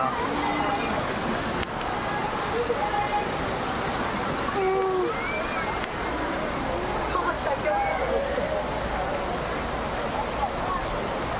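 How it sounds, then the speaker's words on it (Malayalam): Steady dense monsoon rain hisses throughout in Lonavala, Maharashtra, a loud continuous wash of drops with faint voices and scattered chirping tones mixed in. "എത്ര മഴ."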